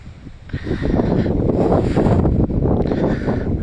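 Wind gusts buffet the microphone with a loud, rushing roar that swells and dips over a few seconds.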